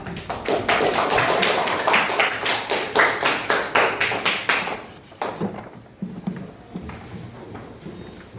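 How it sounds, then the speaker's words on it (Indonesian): A classroom group gives rhythmic applause for a student group presentation at a senior high school: loud, in-unison claps at a steady beat for about five seconds, then a few scattered claps that fade out. "Kita berikan aplaus."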